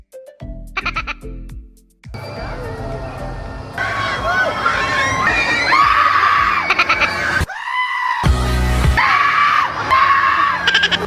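Loud, repeated screams ring out during a family trip in Malaysia, shrill bursts rising and breaking over a busy outdoor scene with voices around them.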